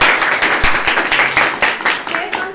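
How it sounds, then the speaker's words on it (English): An audience at a school Republic Day celebration claps steadily in a dense, close burst of applause, lasting a couple of seconds without a break. "A huge round of applause for them."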